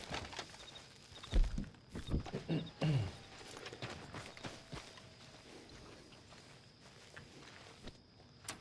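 Horses' hooves clip-clop in Red Dead Redemption 2, a few quiet, uneven thuds clustered early on, then fading into a low, faint game ambience.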